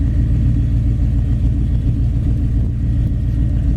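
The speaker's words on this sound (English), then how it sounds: "Listen to how nice that exhaust sounds, and it's got some glass packs on it out over towards the back" A 1963 Ford Galaxie 500 convertible idles through exhaust fitted with glass packs, giving a loud, close, steady low rumble that holds constant throughout.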